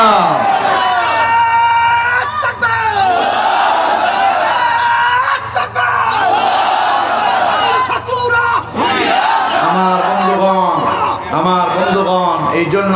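A large crowd chants the Islamic takbir in loud, rhythmic, repeated shouts during a Bengali sermon gathering. Voices surge together in swelling cries, with a lead voice calling out between the responses.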